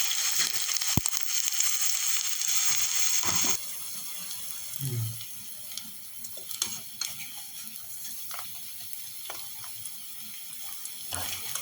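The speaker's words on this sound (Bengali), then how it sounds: "এবারে আমি কড়াইয়ের মধ্যে তেল গরম করে নিয়েছি, বা ছোট ছোট করে ছেড়ে দিচ্ছি পকোড়াগুলোকে" Coriander leaf pakoras dropped into hot oil in a wok, a loud sizzle that eases into a softer steady bubbling, broken by scattered clatters and scrapes, with no one talking.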